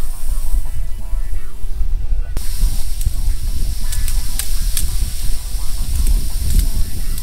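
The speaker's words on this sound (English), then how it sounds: "I got turned on the valve in the bottom of the water, hot water heater" Steady, loud rushing hiss of water gushing and spraying from a hot water heater drain valve, continuous throughout with a slight shift partway through.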